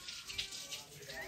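Tap water runs for washing hands in a home, a faint continuous splashing stream with soft voices in the background.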